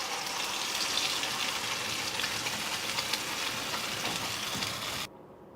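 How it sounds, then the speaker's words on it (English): Water poured into a pan of simmering Chettinadu fish curry, giving a steady broadband hiss and sizzle that stays even and close for about five seconds before cutting off abruptly. "Adding little water."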